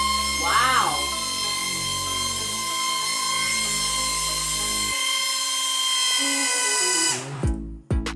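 A Sharper Image Gravity Rover toy runs with a steady, high-pitched motorized whine like a small drill, holding constant for several seconds before cutting off abruptly near the end.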